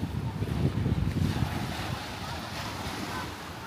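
Sea waves wash onto the shore at Kabayan Beach Resort in San Juan, Batangas, a steady close surf rumble with wind buffeting the microphone, no voices.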